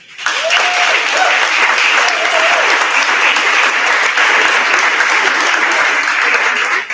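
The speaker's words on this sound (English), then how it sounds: "I'd like to also give her a round of applause" A banquet audience at a Great Baby Beginnings fundraiser gives Luann Brown a loud, sustained round of applause before a live auction, steady and full throughout with faint voices underneath.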